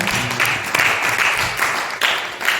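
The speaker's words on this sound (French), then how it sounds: "Est-ce qu'on peut les applaudir également?" A church congregation breaks into applause during a meeting, a short wash of clapping that swells and dips in quick waves at moderate loudness.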